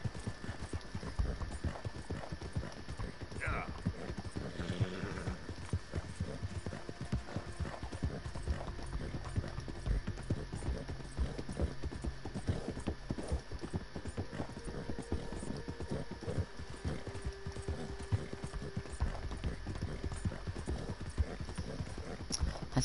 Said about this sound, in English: Horse loves a good gallop.